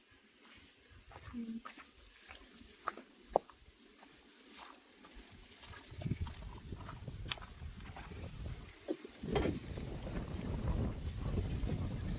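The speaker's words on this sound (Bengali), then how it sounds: "ও বাতাস দেখেন, বাতাসের অবস্থা দেখেন, প্রচুর বাতাস।" Strong wind blows outdoors in a Korean village, building into a loud, rumbling gusty roar on the microphone in the second half, with occasional knocks and a person talking.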